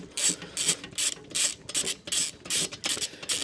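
A hand ratchet winds out the mounting bolts on a VEVOR 8 kW diesel heater motor, giving a close, steady run of rapid clicking bursts in quick repeated strokes with no talk.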